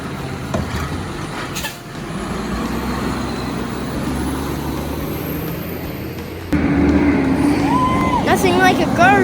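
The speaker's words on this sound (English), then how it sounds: "like a garbage truck rolling past you." A Republic Services garbage truck rolls by with a loud, steady low engine rumble and road noise that grows heavier partway through, with a brief higher whine near the end, close by and continuous under a talking voice.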